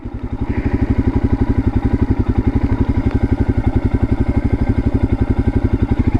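Royal Enfield Himalayan single-cylinder engine thumping at a steady low beat while riding off-road, loud and close, an even rhythmic pulse throughout with no voices.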